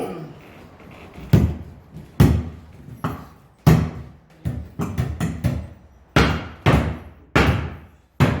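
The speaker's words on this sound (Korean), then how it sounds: "요거를 여러분들이 한 번씩 쫙박어볼게요" A formwork carpenter hammers nails, with sharp, loud strikes at irregular intervals, some single and some in quick clusters, and occasional faint talk between blows.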